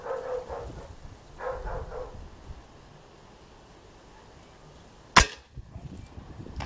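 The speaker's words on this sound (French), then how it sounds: "Ah, le chien qui est pas content, comme souvent." An unhappy dog barks several times in the distance, then a sharp, loud crack from a Black OPS Sniper Tactical air rifle firing a Solognac 4.5mm pointed pellet cuts through outdoors.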